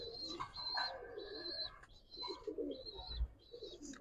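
Giribaz and coloured pigeons coo in repeated soft phrases, mixed with higher chirps and calls, fairly close and moderately quiet, with a brief low thump near the end.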